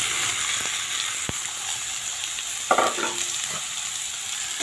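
Cut papaya and cucumber pieces go into a hot pan with a steady frying sizzle, a sharp clatter and a brief louder sputter of the added pieces partway through, with no talk.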